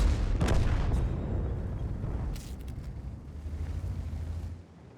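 Artillery firing in World of Tanks, a deep heavy boom at the start that rolls off into a long rumbling tail, followed by lighter crackles and steady engine-like low noise.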